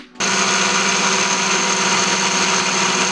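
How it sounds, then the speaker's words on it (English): A blender making a kiwi strawberry smoothie starts abruptly and runs at a loud, steady whir with no change in pitch until the end. "Why would anyone want to hear a blender?"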